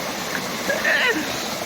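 Water gushes from a tubewell pump outlet in a steady, loud rush with splashing surges, close by and continuous throughout.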